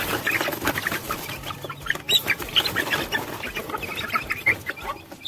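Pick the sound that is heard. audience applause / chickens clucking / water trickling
chickens clucking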